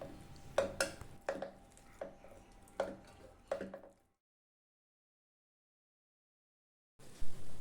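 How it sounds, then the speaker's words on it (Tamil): Soft wet squishing and irregular knocks of a utensil against a pot as boiled, drained tapioca is mashed, followed by a few seconds of silence and a final burst of clatter. "கிழங்க நல்லா மசிச்சு விட்டாச்சு."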